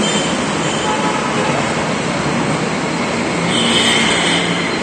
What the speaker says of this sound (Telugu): మళ్ళీ ఇక్కడ మెట్రో స్టేషన్ హైటెక్ సిటీలో మెట్రో ఎక్కితే ఎల్బీ నగర్ దిగాలి